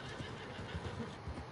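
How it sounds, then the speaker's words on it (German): A horse neighs and whinnies as it falls in Red Dead Redemption 2 online, a faint, strained cry with scuffling hooves, heard alone without talk. "Mein Pferd ist gerade gestürzt."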